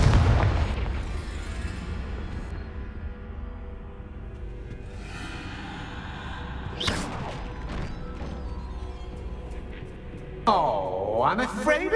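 A Confringo fire spell is cast in the game Hogwarts Legacy, opening with a loud deep booming blast that rumbles away, followed by whooshing magic effects and a swelling burst near the end.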